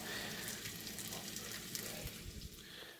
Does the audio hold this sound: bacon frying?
yes